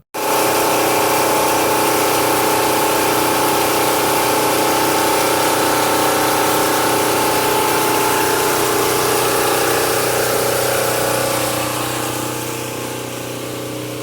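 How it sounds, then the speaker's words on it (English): A generator runs loudly during a long power outage, a dense, steady mechanical drone that fills the whole stretch and eases off slightly toward the end. "That's the generator that all that I showed you in the shed would be used in. It's so noisy I couldn't talk by it."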